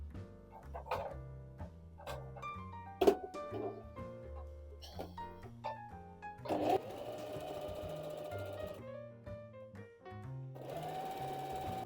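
A sewing machine stitches a straight seam with a stitch length of 3 and back-tacks at the seam's start and end, in short mechanical whirring runs that build into longer continuous stitching, close and clear, with a voice talking between bursts.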